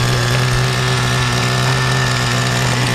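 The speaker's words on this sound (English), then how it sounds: "But the idle is fantastic, right, on these old motors?" Old Kyosho Baja Beetle RC car engine idling, a loud, steady, buzzing small-engine drone held close and even throughout.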